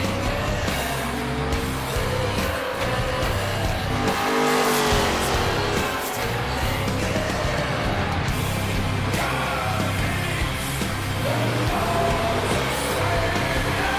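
A roughly 500-horsepower Impala drift car at a Yas Marina drift event, engine roaring continuously with tire squeal and skidding as it launches and slides, loud and close with no talk.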